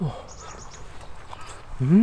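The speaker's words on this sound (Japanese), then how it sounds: "鳥も、鳥の鳴き声も聞こえる。" Short, faint chirps from a wild bird near a campsite sound in a quick run high above low voices, with people talking briefly at the start and end.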